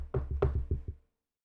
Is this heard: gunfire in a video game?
no